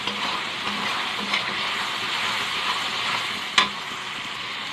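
Spice paste with ground tomato sautéing in a pan for capsicum chicken, a continuous even sizzle broken by soft stirring scrapes and one sharp clack of a spoon near the end.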